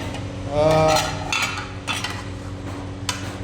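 Chicken fry cooking with salt, chilli, turmeric and chicken masala, stirred in a pan with a metal spoon in a home kitchen in Dubai, giving a few scraping clinks over a steady low sizzle, close and alone.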